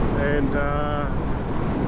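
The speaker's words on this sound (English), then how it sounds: "It's quite windy and quite cool" Outdoors on a solo motorcycle camping trip near Albany, Western Australia, strong wind roars and buffets the microphone in a steady, close rush, with a voice briefly heard under it.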